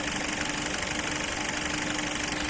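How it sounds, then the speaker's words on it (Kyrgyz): A well-kept car engine idles evenly at close range, a steady low hum and whir with a faint tonal drone, continuous for the whole stretch without knocks or rattles. "Тап-таза, мотору дагы мындай ровно иштеп турат."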